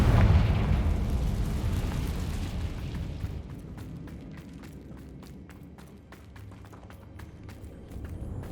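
A Confringo fire spell explosion in Hogwarts Legacy bursts with a deep, rumbling boom that decays slowly, followed by a run of quick footsteps and light game effects.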